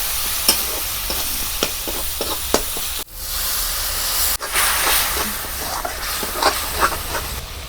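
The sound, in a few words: masala spices frying and being stirred in a pan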